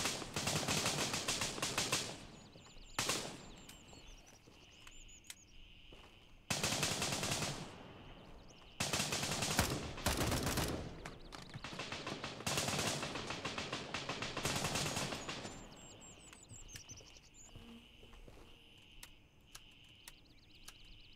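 Rapid automatic gunfire fills a Gray Zone Warfare firefight, with long dense bursts of rattling shots broken by short pauses. Single cracks and quieter echoing fire come between the bursts.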